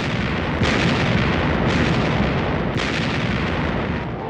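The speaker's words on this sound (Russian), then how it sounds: "За взятие города Невеля в Москве был оружейный салют из 12 залпов." Artillery guns fire a salute over Moscow for the capture of Nevel in 1943, booming volleys heard as loud rumbling bursts roughly every second, dense and continuous with no voices.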